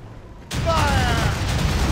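Ship cannons fire in the naval game Assassin's Creed Rogue: a sudden loud boom after a quiet moment, then a sustained roaring rumble of the volley with shouted crew voices over it.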